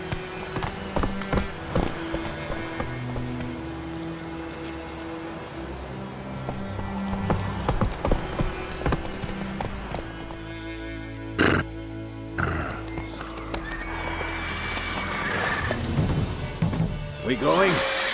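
Roach, Geralt's horse in the video game Witcher 3, gallops with steady clip-clopping hoofbeats throughout, mixed with game music and effects, while voices speak over it.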